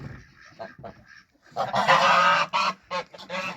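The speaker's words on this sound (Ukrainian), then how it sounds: "Скажений гусь." An agitated three-year-old gander honks loudly and repeatedly up close, harsh blaring calls in bursts, after a quieter stretch with faint voices.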